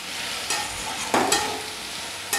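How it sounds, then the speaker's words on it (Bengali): Ginger paste and tomato are stirred into frying raw banana and potato in a pan, a steady sizzle broken by a few sharp scrapes and spoon knocks, close and clear, with no talking. "এখন আমি এই আদা বাটা আর টমেটো দিয়ে দিলাম, দিয়ে আমি এটা ভালো করে একটু নেড়ে নিচ্ছি।"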